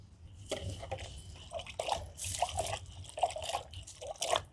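Water drips and trickles from a cleaning cloth dipped in water for bike cleaning, with several irregular drips and splashes close by and no talk.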